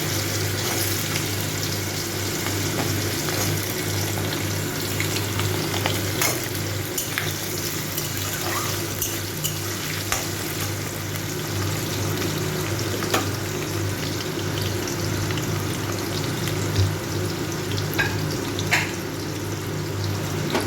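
Potatoes tipped into hot oil with whole-spice tempering for a pumpkin-stem and poppy-seed curry: a continuous bubbling fry with scattered clicks and stirring scrapes, steady throughout and free of talk.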